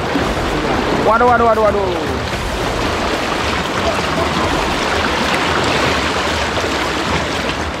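Fast, rushing current of a mountain river on Mount Mekongga in Southeast Sulawesi, a steady loud broadband roar throughout, with a brief exclamation from a person early on.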